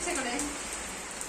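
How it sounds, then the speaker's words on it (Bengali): Steady rain falls hard on a boat-building site beside a canal, a dense continuous hiss with drips from a leaky newly built roof, lasting the whole stretch with no talk over it. "বৃষ্টি পড়ছে"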